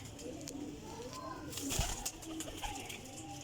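Golden pigeon cooing, a soft low coo with faint bird calls around it, fairly quiet, against a busy background murmur.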